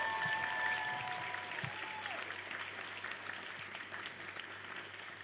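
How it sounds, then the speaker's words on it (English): Sustained applause from a crowd at an Australian national jigsaw puzzle competition, many hands clapping in a continuous, moderately loud wash that gradually softens over about five seconds. "A massive round of applause for our volunteers today."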